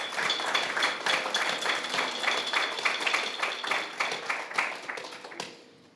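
An audience claps steadily for several seconds after a lecture, a dense, even patter of many hands that fades out at the end, with no voices over it.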